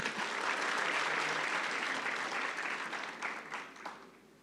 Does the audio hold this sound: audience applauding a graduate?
yes